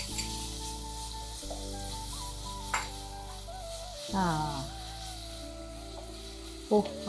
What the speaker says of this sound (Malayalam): നെയ്യ് ഒഴിച്ചു. ബീട്രൂട്ട് അതിനകത്ത് ഫ്രൈ ചെയ്തു.